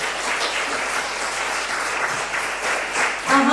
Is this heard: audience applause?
yes